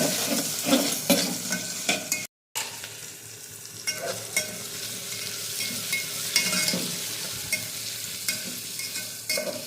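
Sliced onion stirred and fried in a pan over low heat, with a steady crackling sizzle and repeated scraping strokes of the spoon, broken by a brief silent gap.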